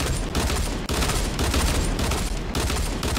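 Rapid sustained burst of automatic gunfire in the Fortnite Battle Royale video game, dense and loud with continuous overlapping shots and brief gaps.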